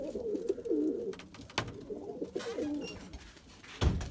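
A pigeon coos close by in two low, throaty phrases, with soft rustles and a thump near the end.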